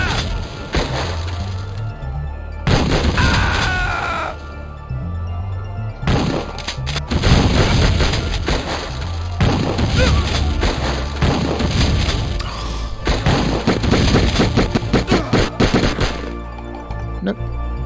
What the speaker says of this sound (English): Explosive gun?